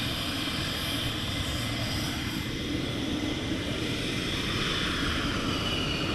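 Steady, distant jet engine roar of a military aircraft taxiing at RAF Lakenheath in the morning, a continuous broadband rumble and whine with no talking.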